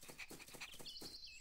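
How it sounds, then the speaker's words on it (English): A cartoon puppy panting in an animated wildlife series, quick rhythmic breathy puffs up close with a faint whistling tone, no talking. "And this is my puppy, Hero."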